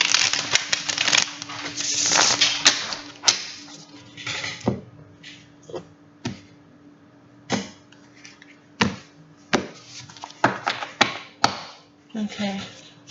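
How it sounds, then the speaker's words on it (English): Tarot cards shuffled by hand in a series of crisp riffling and tapping bursts, close and fairly loud, with pauses between shuffles and no talking. "Shuffle one more time."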